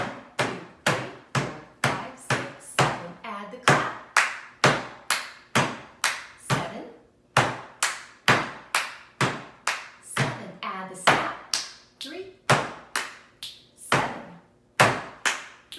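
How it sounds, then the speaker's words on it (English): Hands pat a table in a steady rhythmic pattern during a music lesson, with about thirty sharp, close, even slaps repeated in groups and short pauses between them, heard alone without talk. "From the beginning with 7 pats on the table."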